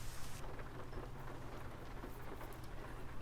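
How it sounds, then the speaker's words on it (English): Steady rain falls in Euro Truck Simulator 2, pattering continuously around a Scania R 440 truck, close and even throughout with no voices. "So, raining in Euro Truck as usual."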